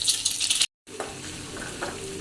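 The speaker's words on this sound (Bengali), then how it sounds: "ডিমও হচ্ছে ভাজা হয়ে গেছে" Eggs frying in a spiced masala in a pan for an egg bhuna curry: a bright, steady sizzle with stirring, which cuts out briefly and then returns softer and lower.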